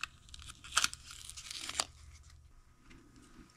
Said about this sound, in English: Just going to open up the package.